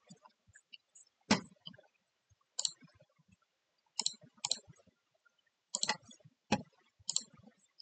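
Crisp computer mouse clicks during FTIR spectrum deconvolution work on a computer: a series of sharp, close single and double clicks at irregular intervals, with quiet gaps and no talking.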